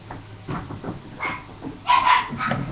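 A dog barks and yips in short bursts during a beer chug, fairly close and loud, with the loudest bark cluster near the end over background room noise.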